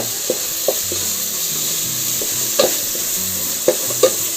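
Tomato, onion, turmeric and coriander powder sauté in a pan for a prawn rice dish, with a steady soft sizzle under repeated spatula scrapes and taps, close and fairly loud, with no talking.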